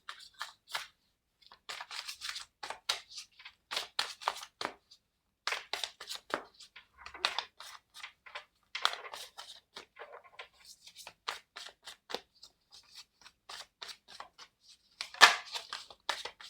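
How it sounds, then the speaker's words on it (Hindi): Bracelets on a wrist jingle and rattle in short, irregular bursts of bright metallic clicks and chinks, faint and close, with quiet gaps between them and no talk. "ये जो मैंने ये ब्रेसलेट्स वगैरह पहने हैं, कहीं इनका शोर आ रहा है"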